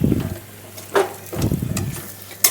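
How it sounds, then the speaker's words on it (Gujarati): Spice powder being stirred into a gundar pak mixture, giving a few soft scraping strokes close by with brief pauses between them and no talk. "આપણે આમાં બે ચમચી આ પાવડર એડ કરી દઈશું બે કે ત્રણ ચમચી તમારા સ્વાદ પ્રમાણે અને મિક્સ કરી દઈશું"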